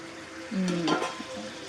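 Chicken frying in oil in a pan, giving a close, steady sizzle with a brief burst of stirring and scraping partway through.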